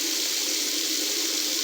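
Water splashes steadily into a bowl of shaving lather, a continuous close hiss and trickle with no voices.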